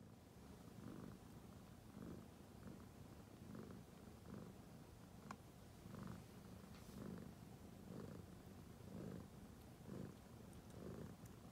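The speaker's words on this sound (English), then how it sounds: "I think you can hear Chong purring through that whole clip if you listen carefully" A cat purring very faintly on a comforter indoors, a soft low rumble that pulses in slow, even breaths through the whole stretch, alone with no talk.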